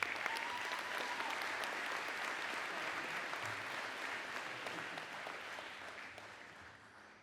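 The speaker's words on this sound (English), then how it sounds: "Let's give him a huge round of applause." Sustained applause from a large audience, steady and dense throughout, slowly tapering off toward the end.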